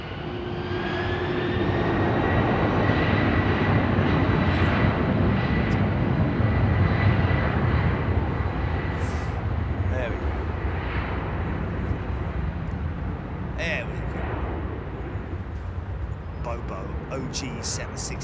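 A Boeing 767 jet airliner roars past, a loud broad rumble that builds then slowly fades into the distance, with people talking and exclaiming over it.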